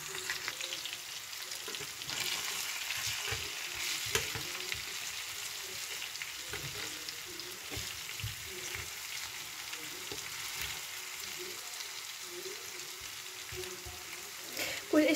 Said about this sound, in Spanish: Pues estaremos así con las patatas dando vuelta hasta que veáis que están doraditas